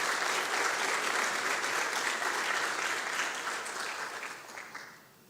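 Sustained, full applause from a symposium audience for a project coordinator, steady and dense for several seconds before gradually fading out.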